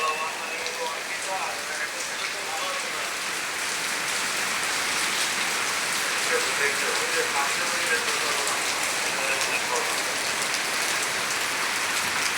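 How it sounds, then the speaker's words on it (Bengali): Heavy downpour under a darkened sky, with water already pooling on the road, drumming as a dense, steady hiss that stays loud and unbroken throughout. "অনেক বৃষ্টি হচ্ছে, অনেক বৃষ্টি হচ্ছে।"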